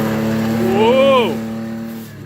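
A lifted Toyota Tacoma pickup with aftermarket wheels and a welded differential revs its engine, a loud, close surge whose pitch rises and then falls over about a second and a half, over a steady idle, with no talking.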